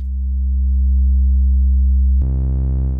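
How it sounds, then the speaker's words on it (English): A warm, pure sine tone from a ModBap Osiris digital wavetable oscillator holds steady, then shifts to a brighter, richer timbre near the end; loud and alone. "I try to start with a warm sine wave."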